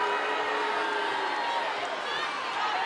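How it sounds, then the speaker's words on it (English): A netball crowd at a Suncorp Super Netball game between Fever and Vixens voices disapproval, a dense, steady roar of many voices filling the arena at a constant level throughout. "Crowd doesn't like it."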